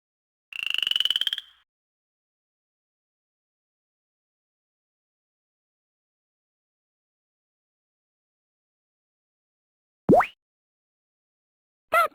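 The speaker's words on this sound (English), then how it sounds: "The frog had somehow got into her bed." A cartoon frog croak plays as a sound effect in the 2008 Nintendo DS picture book game I Did It Mum!: one short buzzy croak near the start, a long silence, then two brief rising blips.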